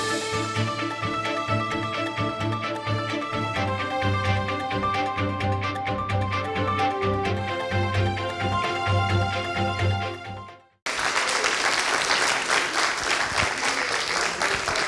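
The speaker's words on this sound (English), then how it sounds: "you hear the applause in the background" Crowd applause at a city election results night in Dublin follows a few seconds of music. After a sudden break the clapping bursts in loud and busy and keeps up to the end.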